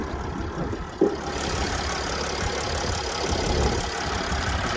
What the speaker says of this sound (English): 3-liter V6 engine here. Makes a lovely tone.